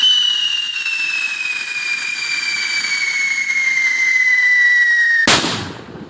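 A firework whistles with a long, steady, slowly falling tone, then ends in a sharp nearby explosion, loud throughout with no talk.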